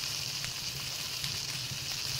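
Food sizzles steadily in a frying pan in the video game Palworld, a continuous bright hiss and crackle filling the moment at constant loudness with no talking over it.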